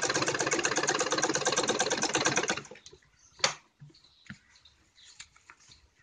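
A sewing machine stitches around a neckline for a ladies' suit or blouse, a loud, fast rattling run that stops after a few seconds, followed by quiet fabric handling and faint clicks.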